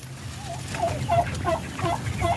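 One-month-old turkey chicks calling, a repeated series of high chirping peeps at a steady rhythm, fairly close and clear over a low background hum.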